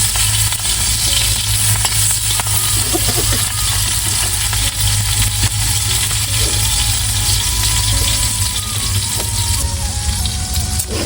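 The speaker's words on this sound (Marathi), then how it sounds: "मिरच्या आपल्या भाजलेल्या आहेत" Green chillies roast in a pan with a loud, dense, continuous sizzle and crackle, plus faint scraping throughout. The sound is close, and there is no talk.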